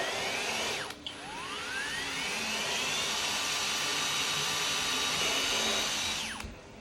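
A power drill drilling out existing holes spins up, runs steadily with a whining pitch, briefly dips, then revs on for several seconds before winding down, close and loud.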